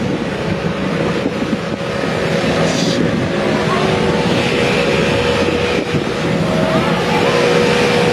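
Loud, continuous roar of buses passing on a street at Kentish Town, engine rumble and wind buffeting throughout, with a brief voice in the background.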